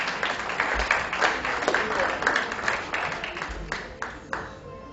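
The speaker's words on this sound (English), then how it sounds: "A huge round of applause for him as well." Applause from the audience at a healthcare industry event ripples through the hall for several seconds as someone is invited onto the dais, a steady dense clatter of many hands with small swells and a few sharper claps near the end.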